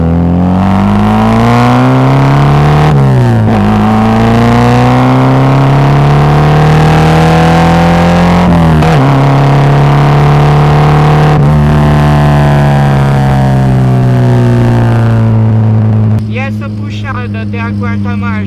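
A VW Gol G2 with an AP engine and straight-through exhaust pulls hard through the gears, its loud raspy note climbing and dropping at each of three shifts before easing off, with a brief voice near the end.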